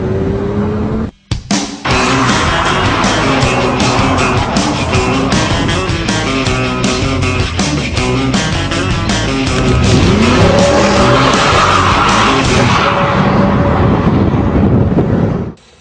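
A loud 6.2-litre LS3 V8 engine revs hard and launches from a standstill, roaring steadily through rising gears with a rough growl, close and continuous until it cuts off.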